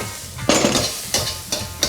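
Garlic sizzles loudly in hot oil in a wok, with four scraping stirs of the spatula striking the pan at steady intervals over a constant frying hiss, close up.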